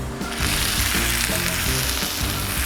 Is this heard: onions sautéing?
yes